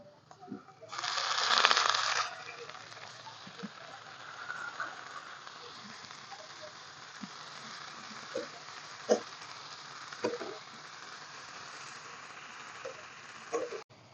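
Water lily stems frying in a pan with onion, garlic and green chili, opening with a loud burst of sizzle that settles into a steady soft crackle with occasional spoon taps.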